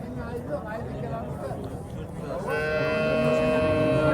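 Cows at a busy cattle bazaar in Piskent, with low moos rising over steady crowd chatter and nearby voices, one long loud bellow standing out near the end.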